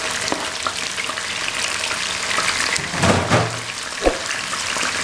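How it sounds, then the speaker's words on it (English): Chopped onion drops into hot vegetable oil in a home kitchen pan, a steady close sizzle that swells as it hits the oil, with a few stirring scrapes and clicks. "So I'll throw in our onion,"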